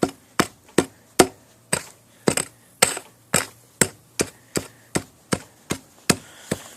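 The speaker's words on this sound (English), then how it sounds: "Dig my bed out." Digging out a trap bed for a fox flat set among a little grass, heard as a series of about fifteen sharp, close chopping strikes at a steady, slightly irregular rhythm, each decaying quickly.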